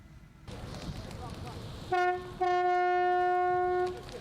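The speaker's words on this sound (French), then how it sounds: "Un concert de klaxons, des pneus brûlés." Two long, loud car horn blasts, a short one then a sustained one, blare over a steady rumble of street and crowd noise at a dawn protest with burning tyres at Porte Maillot, Paris.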